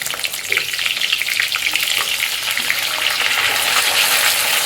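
Stuffed bitter gourds, filled with spice masala, frying in hot oil with cumin, giving a steady, loud, close sizzle with crackling bursts that holds throughout.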